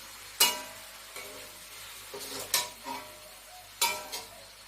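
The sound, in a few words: stirring jute leaves into the pan with shrimp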